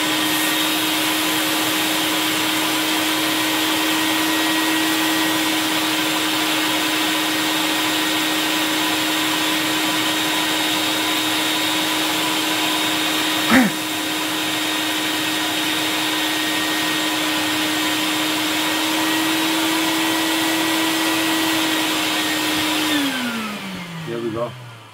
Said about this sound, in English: I just happen to have my shop vacuum in here.